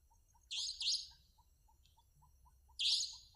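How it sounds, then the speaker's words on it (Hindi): An Asian koel calls outdoors in rural surroundings, giving two quick loud bursts and then a third about two seconds later. A faint steady chirping runs underneath, and no one speaks. "कोयली हाँ भाई"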